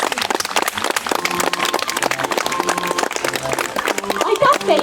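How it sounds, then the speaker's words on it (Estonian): An audience applauds at the end of an outdoor barrel-organ concert in a botanical garden. The clapping is dense and steady throughout, with tonal organ-like notes sounding underneath and a voice speaking over it. "Hästi kõva aplaus."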